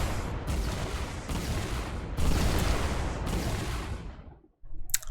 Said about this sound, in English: So, I know there's exploding going on right now.